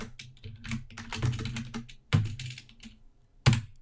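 Typing on a computer keyboard while coding in PHP: a few close, distinct key clicks and presses in a short irregular burst, with no talking.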